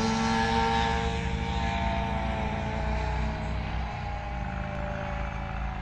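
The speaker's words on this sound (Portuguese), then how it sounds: "Olha a outra moto grande ali." A big motorcycle passing on a road, its engine drone loud at first and then fading as it moves away, with no talking.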